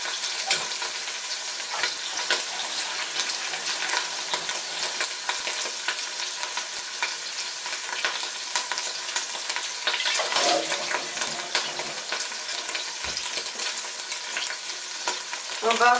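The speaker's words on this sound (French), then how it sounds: "donc on va rajouter de l'eau" Water poured into a pot of simmering meat for couscous: a steady sizzling, bubbling wash that runs throughout, with a louder surge of pouring and stirring near the end, and no voices.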